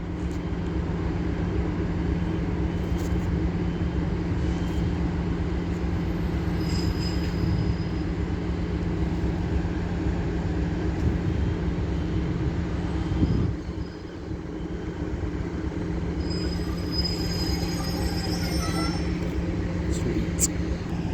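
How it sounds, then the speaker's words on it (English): An LNER Class 801 train runs through Doncaster station on the East Coast Main Line, producing a loud, continuous rumble of wheels on rail with thin, high squealing tones that rise toward the end. "So now coming through will be a Class 801 for LNER running from Aberdeen to London King's Cross."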